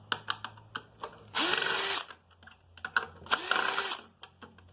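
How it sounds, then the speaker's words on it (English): A power screwdriver backs screws out of a small metal box: two short, close, high whirring bursts, each under a second, separated by light tapping and handling clicks. "So I'm going to just get in here and unscrew this stuff."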